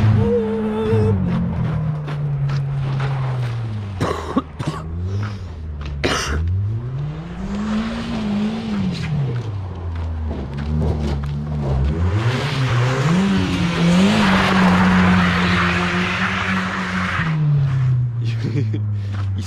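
A Ford Break family car's engine revs and shifts pitch as it drives, with a burst of hissing tire noise midway, while a person talks over it.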